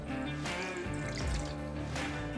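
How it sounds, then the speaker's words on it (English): Two cups of water pour over dried ancho peppers in a bowl, a close, steady splashing stream with a couple of brief, heavier gushes. "we're just going to put our 2 cups of water in there."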